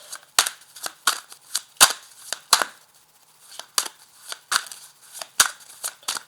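Tarot cards shuffled by hand: a run of crisp, snapping riffles and flicks in irregular bursts, close and clear, with no voice over them.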